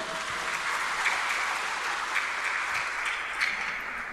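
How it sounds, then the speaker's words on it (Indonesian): Church congregation applauding the choir during a Trinity Sunday Mass, a steady dense wash of many hands clapping at moderate level, continuous throughout with no voices standing out. "Kita boleh tepuk tangan untuk kor ini."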